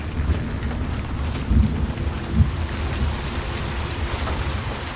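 Heavy rainstorm in the video game Hunt: Showdown, a steady loud wash of rain with low thunder rumbles swelling twice, no talking.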